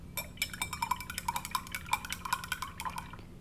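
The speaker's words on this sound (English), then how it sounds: "Rinsing my brush." A paintbrush is rinsed in a water jar during gouache painting, giving a run of quick, light clinks and splashy taps against the glass, fairly close and steady for a few seconds, with no talk.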